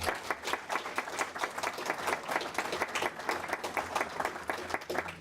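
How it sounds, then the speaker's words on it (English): Full, sustained applause from an audience at an inter-college media competition awards, many hands clapping together with a crisp, rapid texture that stays steady throughout. "please, a huge round of applause for all of our winners today"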